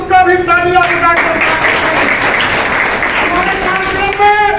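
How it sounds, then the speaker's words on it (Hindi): Crowd clapping to welcome a guest at the opening of a regional Congress party office in Mirzapur, a dense burst of applause over a loud amplified voice, which rises again briefly at the end. "आप तालियां बजाकर स्वागत करते।"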